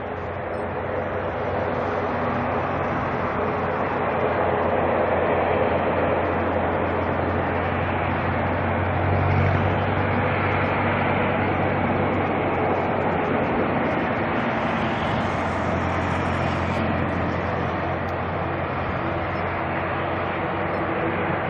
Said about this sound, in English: So it sounds like another prop plane, another ATR heading to Napier.